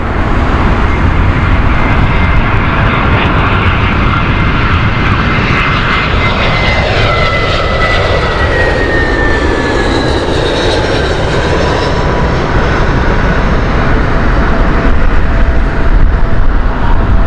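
A British Airways jet on runway 27 left at Heathrow gives a loud, close engine roar with a rising whine running through the middle, sustained without a break from start to finish.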